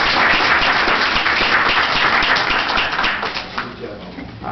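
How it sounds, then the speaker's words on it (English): A council meeting audience gives a round of applause, a dense, sustained wash of many hands clapping that holds steady and then gradually tapers off toward the end. "So give yourself a round of applause."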